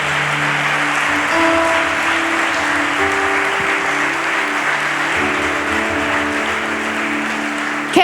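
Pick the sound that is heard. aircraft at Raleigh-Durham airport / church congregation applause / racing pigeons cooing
church congregation applause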